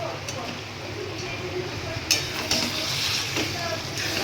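Chicken pieces added to fried masala, a dense continuous sizzle with a couple of clinks of the pot midway and a bit of background voice.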